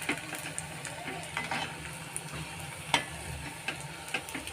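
Gentle sizzle of medu vadas deep frying in a small wok, with soft stirring and occasional clinks of a utensil against the wok, fairly quiet and steady throughout.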